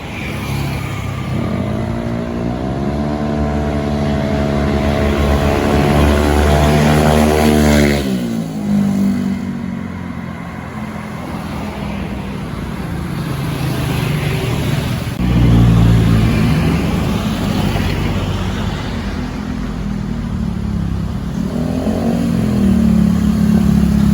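A Honda Vario 150 scooter with a racing exhaust revs hard, its pitch climbing steadily before dropping off, then rising again in further throttle blips; loud and close throughout.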